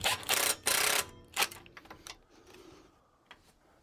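Screws are driven while a QuietCool whole house fan is hung by its straps, giving a few loud bursts of whirring and clicking early on, followed by quieter scattered ticks and taps.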